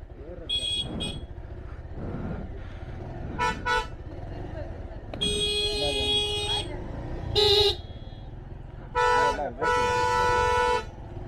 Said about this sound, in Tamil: இந்த ரோடு சரியான டிராஃபிக்கு,